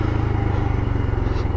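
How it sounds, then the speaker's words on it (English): Deep, steady exhaust growl from a Royal Enfield Scram 411 motorcycle, a low pulsing idle rumble that holds constant, close by and fairly loud. "Growling exhaust."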